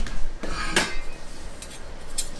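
A toddler clatters metal pots, pans and a spoon about, with one sharp clang standing out among scattered lighter clinks and scrapes, close by with no talking.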